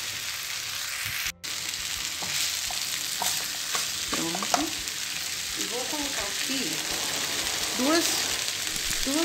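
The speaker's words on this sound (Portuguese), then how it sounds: "E vou dar uma refogadinha aqui de um ou dois minutinhos." Leftover holiday Chester filling sautéing in a pan, with a continuous close sizzle and frying crackle and scattered stirring scrapes and clinks throughout, a faint voice briefly in the background.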